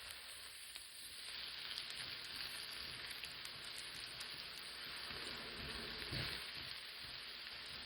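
Onions and mixed vegetables sizzle steadily in a pan for a holiday breakfast casserole, a constant soft frying hiss with faint crackles throughout and no voices.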